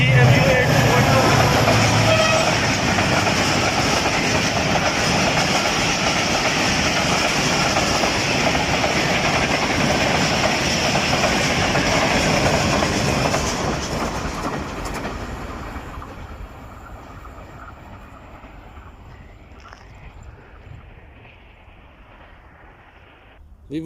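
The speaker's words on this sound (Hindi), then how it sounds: "इस वक्त आने वाली है 47 अब रहमान बाबा एक्सप्रेस, जो कि कुछ ही देर में यहाँ पहुँच जाएगी" The Rahman Baba Express passenger train passes through Meting railway station with a loud, steady rush of wheels and carriages that fades into the distance near the end.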